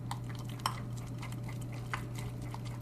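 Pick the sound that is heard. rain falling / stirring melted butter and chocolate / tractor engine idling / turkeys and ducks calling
stirring melted butter and chocolate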